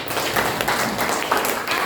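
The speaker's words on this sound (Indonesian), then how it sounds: "Sebelumnya tepuk tangan terlebih dahulu." Classroom applause from a group of students, a dense, steady patter of clapping lasting throughout, fairly loud and close, with some voices mixed in.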